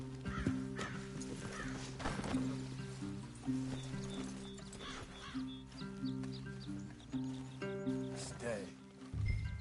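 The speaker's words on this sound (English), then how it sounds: "Leave the horses in the trees there." Horses in Red Dead Redemption 2, with whinnies and hoof clops over a steady bed of game music and talk, fairly close and continuous.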